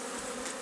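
Honey bees buzz steadily and densely around an open hive during an organic beekeeping inspection, with frames of honey and pollen being handled; a close, continuous drone with no voices.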